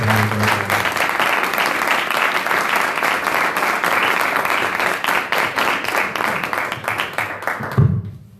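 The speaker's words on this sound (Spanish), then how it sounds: "Un aplauso para estos dos pedazos de artistas." Conference audience applauding two artists at a book presentation on religious imagery: dense, loud sustained clapping from a crowd that fades out near the end, followed by a brief thump.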